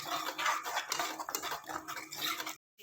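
Tempering for moong dal being stirred in a pan with a ladle, giving close, continuous scraping and clinking metal sounds with a light sizzle, ending in a brief silence.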